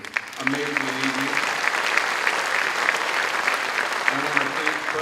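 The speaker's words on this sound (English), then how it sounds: "give ourselves a round of applause for being here for this amazing evening" Audience applause fills a concert hall at a college's 75th anniversary Diamond Jubilee evening, steady dense clapping throughout, loud and close, with faint tonal music or voices surfacing near the start and end.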